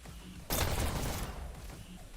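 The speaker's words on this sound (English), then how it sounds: "Nice headshot by Warners" Burst of gunfire in the VR Dash League esports shooter game, a sudden loud rattle that cuts in after half a second and fades over about a second.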